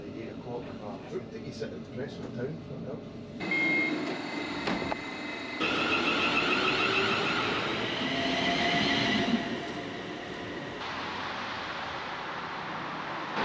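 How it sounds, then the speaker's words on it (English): A train rumbles and rattles along the rails, growing louder as it draws into a Prestwick platform and slows, with wheel noise and a few soft tones alongside. "the train pops me out on the platform spot on time at 11:46."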